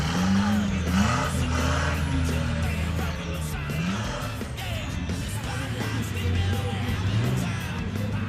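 An off-road truck with a 1.3 litre Suzuki engine drives at a competition event alongside V8 trucks, its engine droning steadily with shifting pitch throughout, joined by tyre noise and mixed motor sounds.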